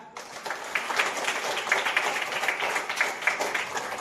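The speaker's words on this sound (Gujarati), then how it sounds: "ચલો પહેલાં તો તાળી પાડી લઈએ બધા" A group of schoolchildren clap their hands together before starting a water-bottle filling game, a dense, steady patter of many small claps sustained throughout at moderate loudness.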